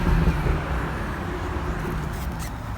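A gray 2017 BMW 340i xDrive M Sport with a manual gearbox runs with a steady, low engine rumble. It stays fairly even and close for about three seconds, with a slightly stronger swell at the start.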